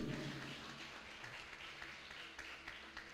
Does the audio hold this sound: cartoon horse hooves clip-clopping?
no